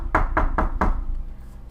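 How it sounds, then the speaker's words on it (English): Four sharp knocks on a door in an even, quick rhythm, close and fairly loud, followed by a quiet room. "There was a knock at the door."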